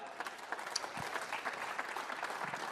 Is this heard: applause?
yes